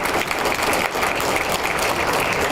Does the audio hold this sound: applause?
yes